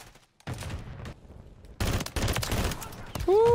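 Sniper and rapid gunfire in Modern Warfare 3, with bursts of shots starting abruptly and clustering into a loud volley in the second half, mixed with game sounds.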